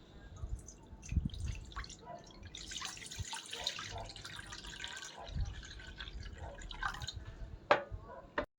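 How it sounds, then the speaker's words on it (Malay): Water pours into a cooking pot while chicken tom yam is being made: a steady splashing trickle with scattered drips, moderately loud and heard alone with no talking. "Kita masukkan air dulu ya."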